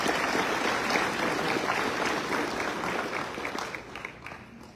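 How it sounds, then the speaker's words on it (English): Sustained applause from a large audience at a medical school white coat ceremony, dense clapping that holds steady and then gradually thins out toward the end. "How about another round of applause for those new and inspiring words?"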